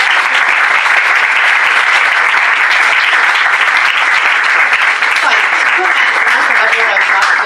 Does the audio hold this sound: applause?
yes